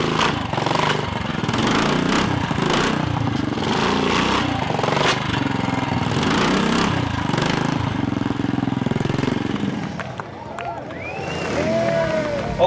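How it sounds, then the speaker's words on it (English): Old, heavy vintage motorcycles with little suspension ride over large obstacles on a trials section at Wheels and Waves 2018. A continuous loud engine drone holds steady with revving swells, over a background of crowd noise. "riders rode old vintage machines over large obstacles"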